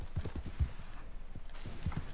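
Horse hooves clip-clopping in Red Dead Redemption 2, a quick uneven rhythm of close, heavy thuds at a fast pace, with a short lull before the beats resume.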